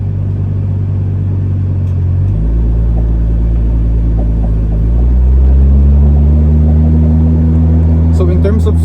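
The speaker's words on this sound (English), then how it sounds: "Okay, so we're gonna be driving it around now." Heard from inside the cabin, a 1993 Toyota Supra drives along with a loud, steady low engine rumble that shifts in pitch as it changes speed, under a person talking.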